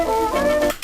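A short raw music sample plays back in FL Studio before any EQ, with bright, harsh high end and gliding tonal lines, loud and close, cutting off abruptly near the end.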